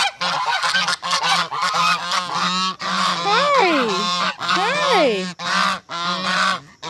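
Geese honk loudly and repeatedly at close range while following someone on a fall garden walk; a noisy, overlapping flock with brief human calls in between.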